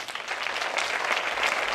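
An audience at the final awards night of a 2009 film festival in Italy applauds for a short stretch, dense steady clapping that fills the room without voices over it.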